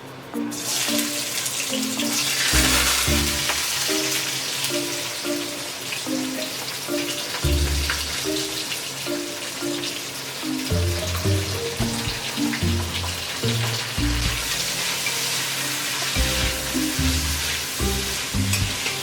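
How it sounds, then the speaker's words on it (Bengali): Onions hit hot oil and fry loudly over a high flame, a dense continuous sizzle with rhythmic stirring and scraping in the pan throughout, close and steady with no voices. "ওকে, এখন আমরা পেঁয়াজ দিয়ে দেবো, অনিয়ন্স এর মধ্যে ছেড়ে দেবো।"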